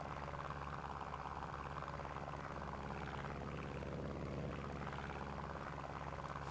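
Luscombe 8A amphibious propeller plane engine in Microsoft Flight Simulator, heard from inside the cockpit as a steady, moderately loud droning buzz with a rhythmic pulsing shake, continuous and without speech.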